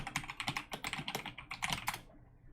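Rapid, uneven keystrokes on a computer keyboard, clattering up close in quick bursts for about two seconds before trailing off into silence.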